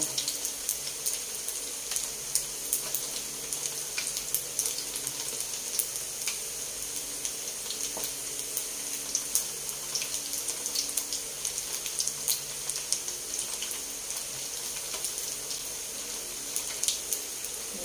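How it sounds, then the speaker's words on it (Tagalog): Skinless chicken longganisa fries in a pan with a steady, fine sizzle and scattered crackles and pops, continuing evenly at moderate volume throughout. "At piniprito na natin. Ayan. Naluluto na ang ating piniprito."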